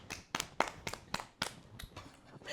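Several people clap their hands along to a dog named Diesel in a living room, giving about ten sharp, uneven claps that stay fairly quiet and close, with no talk over them.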